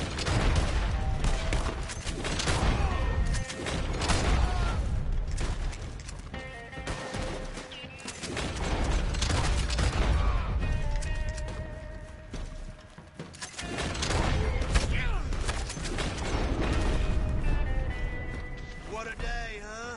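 Gunshots and repeated gunfire volleys from Red Dead Online on PS5 crack through a noisy stretch of gameplay, with hooves and other action mixed in and people talking over much of it.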